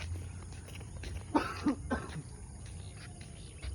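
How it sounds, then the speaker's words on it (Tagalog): A few short coughs, fairly close, over a quiet outdoor background. "May narinig kayong ano, umuubo."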